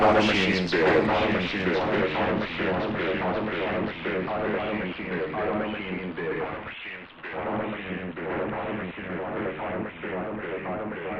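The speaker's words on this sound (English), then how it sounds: "you can really hear some distortion and what is almost like a wow and flutter from a tape machine" Loud, distorted sound repeating through the Dirty Repeats delay preset of an OTO Machines BIM, its pitch wavering and wobbling like a warped tape, continuous throughout.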